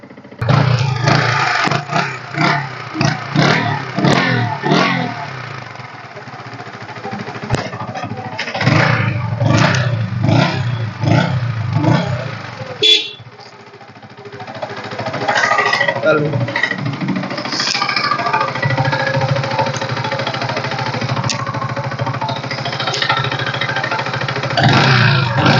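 A 2015 Yamaha R15 V2 motorcycle, well maintained and single-owner, revs loudly in repeated sharp bursts, then settles into a steady, close engine drone, with someone talking over parts of it.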